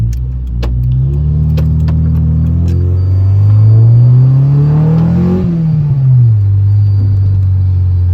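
A rebuilt junkyard Honda Civic EG engine runs loud and close, its steady drone rising in pitch as the revs climb, then dropping back to a lower hum, with no talking.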